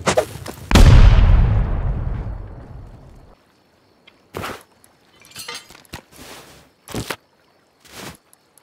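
A bean can grenade in the video game Rust goes off in one loud, booming explosion whose rumble decays over a couple of seconds, followed by scattered sharp thuds and footstep-like game sounds.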